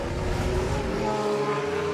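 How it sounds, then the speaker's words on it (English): A Jaguar XJR-9LM Le Mans race car driven away from the start line at the Goodwood Festival of Speed, its engine a loud sustained roar that rises in pitch close by and then fades slightly as it pulls away. "The Jaguar leaves the line"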